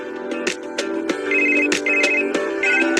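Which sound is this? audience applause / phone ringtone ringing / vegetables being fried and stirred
phone ringtone ringing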